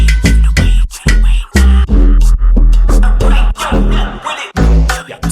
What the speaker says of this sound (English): It is primarily just sine FM basses with different kinds of distortion or saturation on